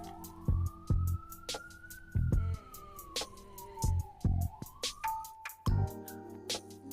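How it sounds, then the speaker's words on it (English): A siren wails from outside, its rising and falling tone running through the clip while close, loud thumps and knocks from nearby handling punctuate it. "You're gonna hear sirens."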